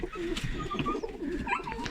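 Pigeons cooing nearby, soft throaty warbling calls overlapping in a low rolling rhythm.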